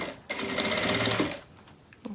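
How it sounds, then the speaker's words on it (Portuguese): A sewing machine stitches plastic canvas for a beach bag, running in one fast continuous burst for about a second before stopping, with faint handling noises afterward. "Agora eu viro e costuro a outra metade aqui."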